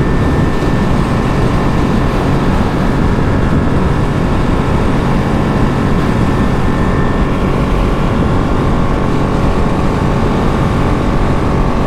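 A 2023 limited-edition Ducati Panigale V2 Troy Bayliss motorcycle cruising on a freeway in fifth gear around 5500 RPM, a loud, steady engine drone mixed with heavy wind rush, continuous and close with no speech.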